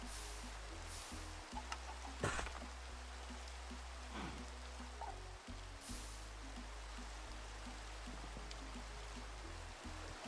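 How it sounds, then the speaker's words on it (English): Rain falls steadily in a Minecraft modpack game, a constant hissing patter that runs throughout, while a low repeating tonal hum from the game sits underneath and a few faint clicks and thuds come and go. "Rain's terrible, I know"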